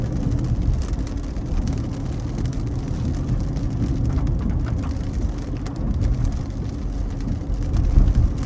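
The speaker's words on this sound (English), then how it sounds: "Still raining, man. It's still raining." Rain drums steadily on a car while driving on a local route, a constant low rumble of road and engine noise beneath a soft patter of drops on the roof and windows.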